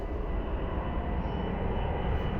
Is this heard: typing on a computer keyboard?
no